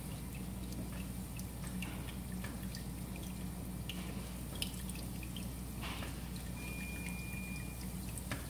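Water drips in a reef aquarium as a bottle of sand is lifted out, a few scattered soft drips and plinks over a steady hiss of pump and water noise, quiet and close, with no speech.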